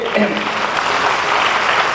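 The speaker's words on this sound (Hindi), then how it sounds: "एक बार सारे लोगों से आग्रह करता हूँ कि आप तालियां बजाकर मुझे" Dense, steady applause from a crowd at a Hindi poetry gathering (kavi sammelan) in Sirsaganj fills the whole stretch, with a few voices calling out at the start.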